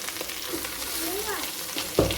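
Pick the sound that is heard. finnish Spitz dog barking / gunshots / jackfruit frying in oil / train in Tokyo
jackfruit frying in oil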